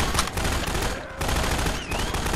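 An automated gun turret fires in the video game Half-Life 2 Episode 2, a dense, steady rattle of rapid shots that dips briefly near the middle before resuming at full loudness.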